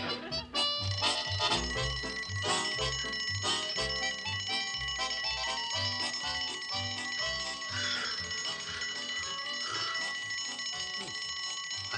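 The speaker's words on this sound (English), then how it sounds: "I do believe Elsie's tinkling her little bell" A small hand bell tinkles in quick, bright repeated rings over a busy background of music and other tones, moderately loud throughout, with no speech.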